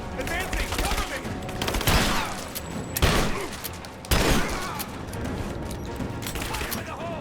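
Gunfire in the video game Rise of the Tomb Raider, a loud, dense exchange of many rapid overlapping shots with several sharper close bursts. Shouted voices come through the chaotic battle noise.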